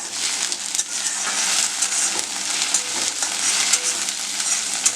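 A teaspoon of ginger garlic paste is mixed into a pan turned up to high heat for a mutton fry, producing a loud, bright sizzle with small irregular stirring bursts and crackles, close and continuous with no talk.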